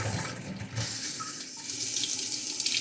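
Kitchen water faucet sputtering and spitting as it runs, an irregular hissing, gurgling flow close by with no talking.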